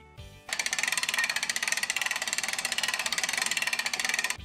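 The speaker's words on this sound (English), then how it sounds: "This also produces a clicking noise as the pawl engages the rotating ratchet wheel," Brake winch ratchet wheel turning under its pawl, giving a fast, even run of sharp metallic clicks close up, heard alone and stopping abruptly after about four seconds.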